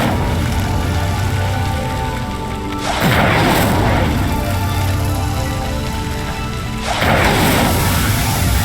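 A video game fire spell, Incendio, cast twice, each a loud whooshing burst that flares into a roaring crackle over a steady background ambience.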